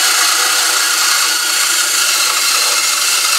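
A power saw cuts steadily through wood for a whirligig goose, a bright, continuous close-up buzzing hiss without talking.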